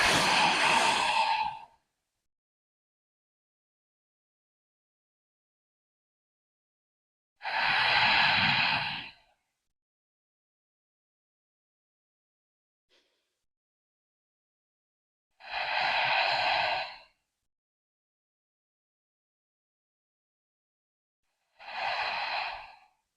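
Four slow, deep breaths held in a downward-facing dog yoga pose, each a broad airy exhale of about two seconds, close and clear, separated by long silent gaps.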